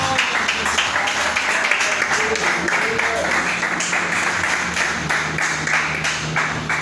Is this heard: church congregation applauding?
yes